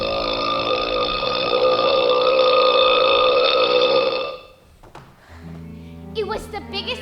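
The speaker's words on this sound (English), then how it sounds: "It was the biggest burp I had ever done." A very long, loud burp performed on stage in a school production of Matilda holds steady for about four seconds and then cuts off, followed by quieter scattered sounds and a voice.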